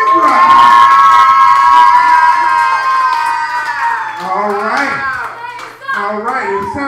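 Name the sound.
crowd cheering and applauding for comedian at open mic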